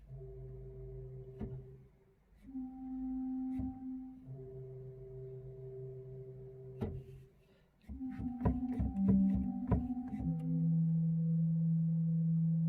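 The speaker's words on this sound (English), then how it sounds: "The first of our three stops on the pedal organ is a bass flute" Church pipe organ in a parish church playing its pedal bass flute stop: sustained low flute-like notes held for a few seconds each, then a quicker run of short notes, heard alone in a reverberant room.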